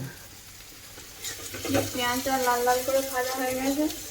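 Onions fry in a pan in a village home kitchen, a steady low sizzle running the whole time while voices talk over it for most of the stretch.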